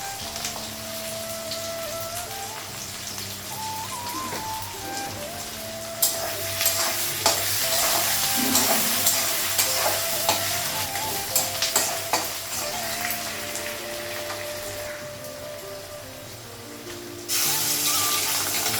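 An egg fries in a wok, giving a steady sizzle alongside stirring and clinking utensil sounds and some running water, with a louder burst of sizzle partway through and again near the end, heard up close with no talking.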